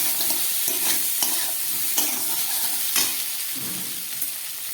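Spices and tomato pieces sizzle in a hot pan for a vegetable curry while being stirred, giving steady frying hiss with repeated scraping strokes, close up and with no talking.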